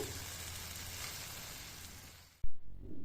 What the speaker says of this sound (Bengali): পাঁচ মিনিট মতন মশলার সাথে লতিটাকে কষিয়ে নেব